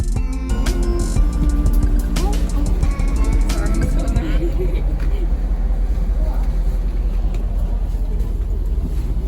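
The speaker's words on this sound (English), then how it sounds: "So we are now on the bus to KHAO and it's actually a really nice bus." Public bus in Thailand heading toward Khao Sok, a loud steady engine drone and road rumble inside the cabin with some rattling and clicks early on, continuing throughout.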